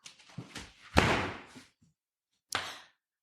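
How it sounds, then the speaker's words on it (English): A door is busted down as a radio play sound effect: a few knocks build to a heavy crash with a short scraping tail, then silence and one more sharp bang. "Bust down that door, Scott."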